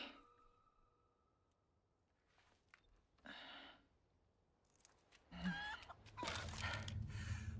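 Chickens cluck in bursts in the Resident Evil 4 Remake village, starting with faint scattered sounds and footsteps, then a louder run of clucks and squawks toward the end, with no talking.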